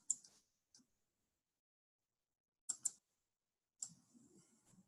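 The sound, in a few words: computer mouse clicks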